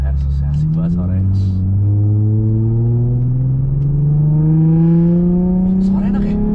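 Exhaust of a stanced Mercedes S-Class revving, a smooth deep drone that climbs steadily in pitch over several seconds, loud and close and heard alone.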